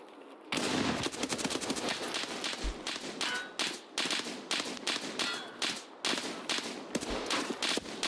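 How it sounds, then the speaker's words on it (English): Gunshots in Escape From Tarkov, a long run of sharp cracks fired in rapid bursts with short pauses, fairly quiet and distant-sounding with no talk over them. "Where is he shooting from?"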